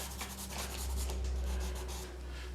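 Turquoise pastel is rubbed in by hand to blend it, giving soft, repeated scratchy strokes in a steady back-and-forth rhythm, close and quiet with no talking.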